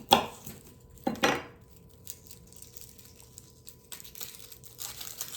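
A knife cutting potatoes in half on a kitchen board, giving two sharp close chops about a second apart, then quieter scraping and clatter, with no talking over it.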